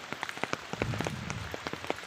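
Heavy monsoon rain pours down, with distinct drops pattering and splashing close by over a low, steady wash, and no voices.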